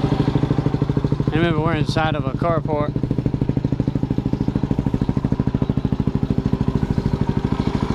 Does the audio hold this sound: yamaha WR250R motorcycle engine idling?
yes